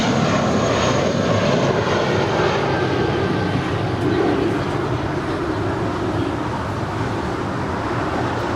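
A Skyway jet roars on its takeoff run from runway 25 right at LAX, a loud, steady, broadband engine rumble that holds without a break, heard close with no talk over it.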